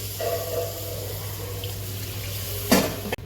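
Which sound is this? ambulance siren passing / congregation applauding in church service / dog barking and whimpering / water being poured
water being poured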